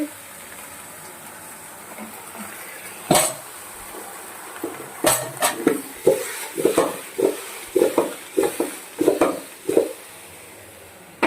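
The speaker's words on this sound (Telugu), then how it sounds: "ఇలా బెల్లం అంతా వేసుకుని ఒక్కసారి తిరగొట్టుకోవాలి" Sweet pumpkin pieces stirred with jaggery in a cooking pot, giving a run of irregular scraping and soft clattering strokes that grow busier after a brief quiet start, close up with no voices.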